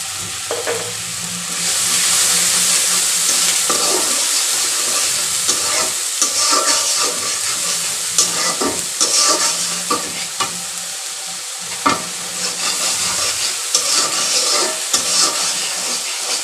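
A spice paste of turmeric and chili powder stir-fries in a pan for a fish dish, giving a loud, steady sizzle broken by repeated scraping and stirring strokes with no voices.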